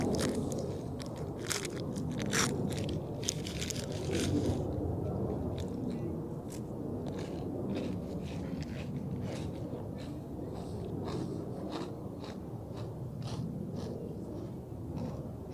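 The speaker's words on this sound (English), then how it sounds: "I think I have a little snack" Someone munching a small crunchy snack close to the microphone beside Zurich Airport: crisp bites and chewing crackle, loudest early and then thinning out, over a steady wash of outdoor airport background noise.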